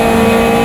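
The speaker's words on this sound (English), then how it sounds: "There we go, up the gears." A Caterham race car engine in the racing game AMS2 at Cadwell Park, a loud steady buzzing drone under acceleration heard alone in a brief burst.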